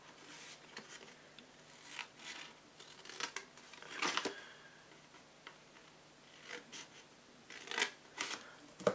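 Scissors snipping through paper while cutting small 3D scrapbooking gift boxes, a few quiet scattered cuts with soft rustling between them, close and faint.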